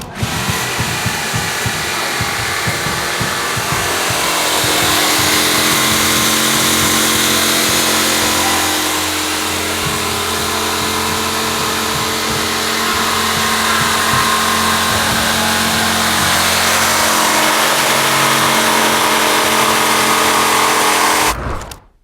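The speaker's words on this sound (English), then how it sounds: "Now we're gonna get our jigsaw out," A jigsaw cuts the wall profiles of a DIY teardrop camper, a loud, continuous buzzing whine of blade and motor that runs steadily for about twenty seconds close by, with no voices.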